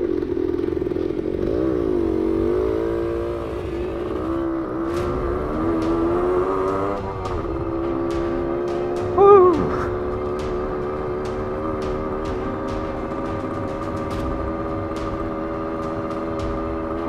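A 1972 Yamaha 100cc two-stroke motorcycle drones steadily while being ridden, its buzzy exhaust note rising and falling with throttle changes and a brief sharp clatter midway, close and continuous throughout.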